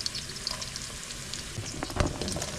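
Onion fries in a pan with a dense, even sizzle and a faint clatter of stirring, close up and steady over a couple of seconds, with no one talking.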